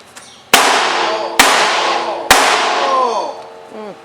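Metal panels for an Air Force monument are struck with a homemade acetylene-bottle thumper in an iron works shop: three loud, sharp clanging blows about a second apart, each leaving a long, bright metallic ring that slowly fades.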